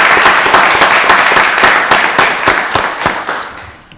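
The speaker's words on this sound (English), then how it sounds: "Give them another round of applause, please." Loud applause from an audience at a county board of commissioners meeting, dense continuous clapping that fades slightly toward the end.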